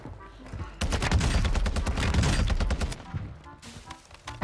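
Rapid bursts of TAQ-V rifle fire in Warzone 2, a dense sustained volley through the middle with a short quieter gap before and a brief lull near the end.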